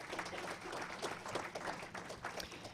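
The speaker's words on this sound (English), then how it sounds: "let's give them a round of applause" Audience applause at a CEO Insights talk venue, a steady wash of many hands clapping at moderate level from start to finish, no voices on top.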